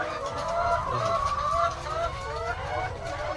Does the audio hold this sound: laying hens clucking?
yes